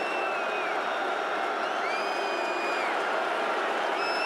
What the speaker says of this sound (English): You can hear the crowd in the Dome getting into it.